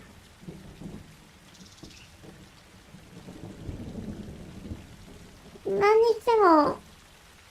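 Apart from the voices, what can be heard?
rain in video game Republique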